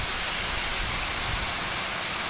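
Heavy rain driven by strong wind pours down as a dense, steady roar with no pauses, loud and broad, with no voices over it.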